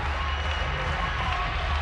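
A gymnastics arena crowd at a women's championship cheering and applauding, a steady dense roar of voices and clapping filling the hall, loud and sustained.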